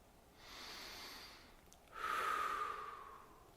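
A deep breath is drawn in through the nose, then let out in a longer, stronger exhale, close and quiet, alone without talking.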